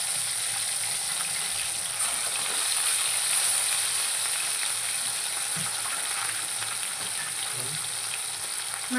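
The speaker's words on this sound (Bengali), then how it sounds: "প্রথমেই আমি মাছগুলোকে ভেজে নেব।" Tilapia pieces fry in hot oil in a heated kadai, a steady close sizzle with a bright hissing spray that holds evenly throughout with no talking.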